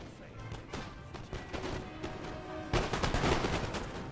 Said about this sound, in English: There we go, the first volleys of the disciplined British fire.